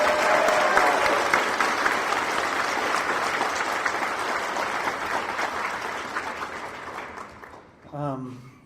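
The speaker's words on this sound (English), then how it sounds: "how about one more round of applause for Tanya Wooldridge?" Sustained applause from a banquet audience at a gaming convention, dense clapping that slowly tapers off before a voice begins speaking at the end.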